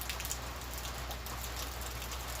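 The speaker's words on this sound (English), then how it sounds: "It is raining." Steady rain falls outdoors, an even hiss of drops on surfaces that continues unbroken throughout, moderately loud with no voices.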